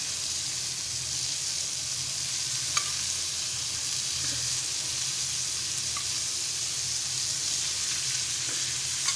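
Fish frying in oil in a pan, Malvani style, with a constant close sizzle and hiss, broken only by a few faint ticks and no talking.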